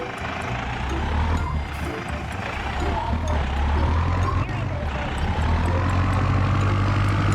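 A tipper truck in Farming Simulator 19 reverses to dump soil along a narrow lane beside a house, its engine rumbling steadily and rising slightly in pitch, with people talking over it.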